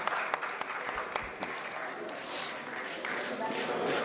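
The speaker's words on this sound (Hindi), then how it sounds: "आप लोग एक दफ़ा ज़ोरदार तालियां बजाइए इन सब के लिए।" Quiet applause from an audience at a live award ceremony, with sharper claps near the start settling into a soft, steady patter under some talk.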